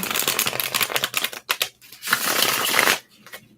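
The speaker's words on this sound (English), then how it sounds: "Just wait there patiently while I shuffle the cards." Tarot cards shuffled close to the microphone in crisp papery riffling bursts, with a short pause before a longer steady run, then quiet, no talk.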